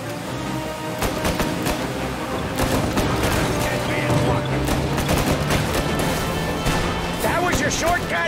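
Gunfire from pursuing gangsters during a car chase in Mafia Definitive Edition, a steady clatter of shots mixed into dense game noise, engine rumble and music, with voices talking over it throughout.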